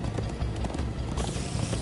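Horse hooves clip-clop in the video game Minecraft Story Mode, a quick, continuous run of hoofbeats at moderate volume with no speech.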